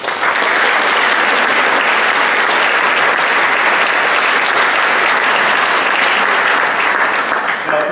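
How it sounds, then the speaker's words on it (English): An awards-ceremony audience claps continuously, a dense, loud roar of many hands sustained throughout, with no talk. "please join me in a round of applause."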